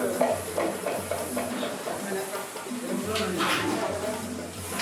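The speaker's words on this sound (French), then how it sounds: "Et on va faire revenir les crevettes." Shrimp with onions sautéing in a pan at an outdoor African cooking workshop, a continuous sizzle with stirring scrapes beneath nearby voices and crowd chatter.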